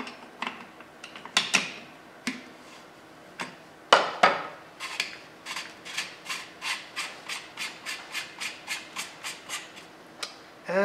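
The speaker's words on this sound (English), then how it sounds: "Now we can loosen the castle nut." A castle nut on a rifle buffer tube is loosened with a tool, giving a run of sharp metallic clicks and ratcheting scrapes in a steady rhythm, close and fairly quiet.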